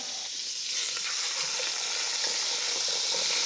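A piece of brisket sears in a hot pan, giving an even, close sizzle with small pops and crackles running steadily throughout, no voices over it.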